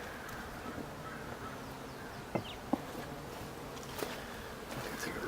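Honey bees buzzing over a hive frame of comb and larvae while it is sprayed with 1:1 sugar syrup, a steady faint hum with a few brief clicks and knocks, close, no talk.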